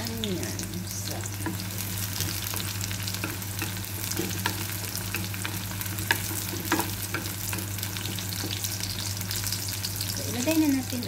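Garlic and onions fry in a pan, giving a steady close sizzle with scraping stirs throughout and a low hum beneath, while someone talks briefly near the end.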